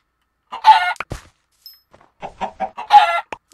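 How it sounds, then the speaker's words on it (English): Chickens in Minecraft cluck in two short bursts of repeated calls, loud and close, with a brief pause between them and no talk over them. "Then there's chickens down here."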